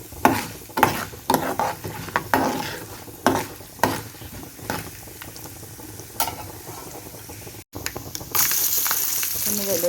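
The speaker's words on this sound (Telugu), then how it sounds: "తాలింపు వేస్తున్నాను." Garlic tempering hits hot oil for a tomato pickle, bursting into loud crackling sizzles with sharp spits and pops, then settling into a steady, bright frying hiss near the end.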